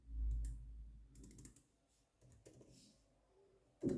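Soft, quiet keystrokes tap out Python Flask code on a computer keyboard, arriving in short, uneven bursts of clicks at close range with no talk over them.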